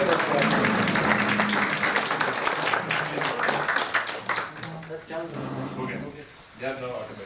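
Applause at an entrepreneurship skill development training program, dense clapping at first that thins out while voices begin talking over it toward the end.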